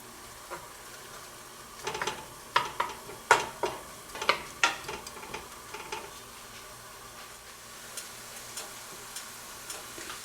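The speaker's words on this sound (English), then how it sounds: "you can see our veggies are starting to sizzle. Give them a little stir." Onions and garlic sizzle quietly in a pan, broken by a cluster of scraping and tapping stirs from a utensil, then a soft steady fry continues.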